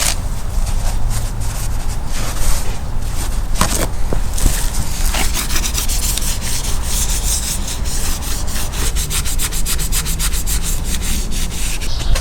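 Steady scrubbing on a front brake hub surface of a Mitsubishi Montero Gen 2.5, a continuous loud rubbing and sanding texture with faster strokes toward the end, no talking.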